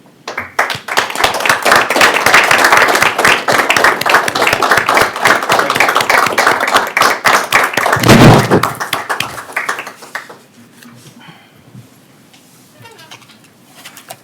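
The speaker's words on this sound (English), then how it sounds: "join me, ladies and gentlemen, with a recognition of applause for these two fine gentlemen" Applause at a county commission meeting, a dense sustained round of clapping from a roomful of people lasting about ten seconds before fading into quiet room noise.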